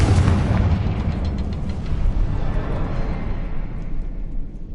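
A Confringo fire spell explodes in the Hogwarts Legacy video game, a loud, deep blast that opens with a heavy boom and rolls into a sustained rumbling roar that slowly fades, with no voices.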